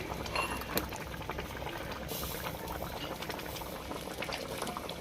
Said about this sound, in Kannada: ಮಾವಿನಕಾಯಿ ಹಾಕಿ ಒಂದು 5 ನಿಮಿಷ ಬೇಯಿಸಿದ್ರೆ ಸಾಕು.